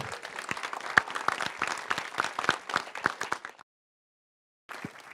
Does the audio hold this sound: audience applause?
yes